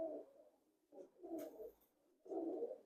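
Dabwala pigeons, a golden teddy breeding pair, give soft, low cooing calls close up. There are three or four rounded phrases separated by brief pauses.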